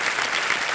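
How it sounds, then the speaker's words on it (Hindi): A studio audience on a quiz show set claps in a dense, steady wave of applause that stays loud and close for a brief moment, with no other sounds over it. "एक बार फिर से तालियां बजाते हैं आपके लिए।"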